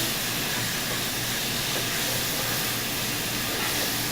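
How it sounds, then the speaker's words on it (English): Tomatoes sautéing in a pan over medium heat for a South Indian chicken curry, giving a steady broadband steamy hiss with no talking. "Saute the tomatoes."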